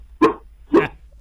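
A dog barks twice over a voicemail line, two sharp, loud barks about half a second apart with a faint low hum of phone-line noise beneath.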